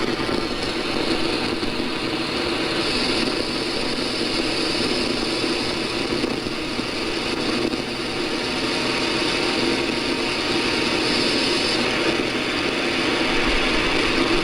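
A longwave radio beacon received on an RSPdx software-defined radio comes through as a steady wash of hiss and static with a faint rhythmic tonal pattern buried in the noise, continuous and unbroken.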